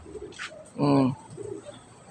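A single close pigeon coo, soft and throaty, rises briefly amid quiet background murmurs and faint ambient noise.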